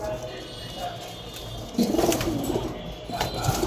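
Jalali pigeons at a pigeon farm coo in low, soft murmurs, with a fuller burst of cooing and fluttering partway through over steady background noise.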